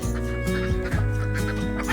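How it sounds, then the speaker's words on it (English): A broody hen sitting on eggs in a nest box gives a steady run of low, throaty clucks and grumbles, close and fairly loud, with no voices over it. "I have a broody hen here."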